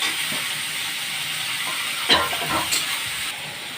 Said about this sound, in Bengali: বেগুনটাও দিয়ে একটু ভাজবো